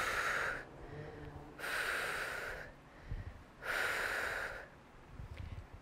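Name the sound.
exhaling and inhaling during exercise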